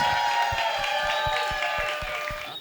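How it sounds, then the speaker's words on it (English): Wedding guests applaud together in a dense, steady burst of clapping that stays loud throughout, with a few louder individual claps standing out and a faint tonal hum running beneath. "Can we please give them a round of applause?"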